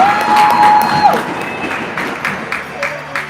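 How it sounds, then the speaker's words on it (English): A crowd at a girls' junior varsity ice hockey game cheers and claps, loud at first and then fading into scattered applause, with a whistle near the start and an announcer talking over it. "some kind of conflicting cheering going on."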